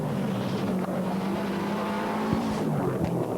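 A Peugeot Maxi rally car races along a stage of the 1995 French rally championship, its engine droning loud and steady with a sharp rise in pitch, heard alone.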